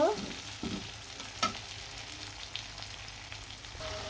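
Tomatoes sauté in a pan with spices for a Bangladeshi chapila fish curry, giving a continuous crackling fry with spatula scrapes and stirring knocks throughout, close and fairly loud, no voices.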